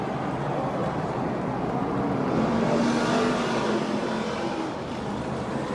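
A NASCAR Camping World Truck Series pickup doing a victory burnout at Pocono Raceway in 2018 roars with a steady, dense engine and tyre-smoke rush, holding loud and continuous throughout.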